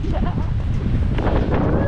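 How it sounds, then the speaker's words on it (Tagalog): Strong wind buffets the microphone at Rizal Park in Manila, a loud continuous low rumble with gusty swells, and faint background voices and city ambience beneath it. "Lakas ng hangin."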